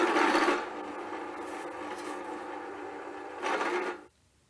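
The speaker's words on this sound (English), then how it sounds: "Remove burrs." A steady rasping scrape of a file removing burrs from a metal plate runs for about four seconds, louder at the start and end, then stops.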